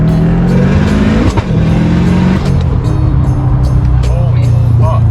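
A 500whp Subaru STI with traction control switched off pulls hard from second into third gear, its loud engine note climbing, dropping at the shift, then climbing again, with a voice speaking over it.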